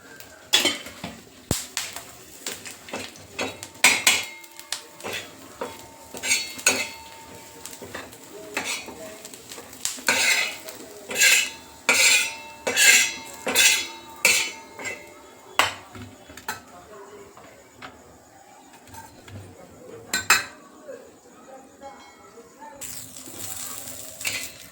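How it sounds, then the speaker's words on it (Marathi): Coriander seeds and spices are dry-roasted in a pan with grated coconut and a little oil for a black masala. A metal spatula scrapes and clatters against the pan in irregular bursts over a quiet background. "धणे सगळं साहित्य भाजून घेऊया आपण"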